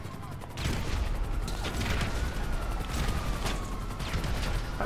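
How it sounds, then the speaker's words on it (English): A weaponised Tampa's rear mortar grenade launcher firing in GTA 5, heard as a string of sharp blasts and clattering bursts after a quiet start, loud and continuous with a faint tonal whine running underneath. "Shoots out a grenade launcher like this."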